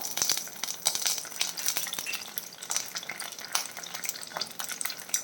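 Curry leaves drop into hot coconut oil for pepper chicken, crackling and sizzling close up with sharp spits and pops over a continuous frying hiss, along with light clinks of a utensil in the pan.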